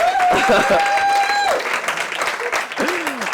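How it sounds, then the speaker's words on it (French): Applause from an audience at a French-language talk, clapping under a sustained tonal whistle-like sound and gliding tones, with voices mixed in and the clapping thinning toward the end. "applaudissez-le"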